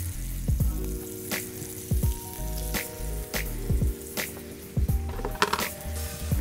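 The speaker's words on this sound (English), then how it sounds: "that's what you want to hear, that sizzle" Soft, steady sizzling of tuna searing in oil in a hot pan, punctuated by sharp pops, clicks and clanks of cookware nearby; no voices.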